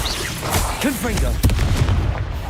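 Fiery Confringo blast spell exploding in the video game Hogwarts Legacy, a loud booming burst mixed with whooshing magical effects and game sounds, heard up close.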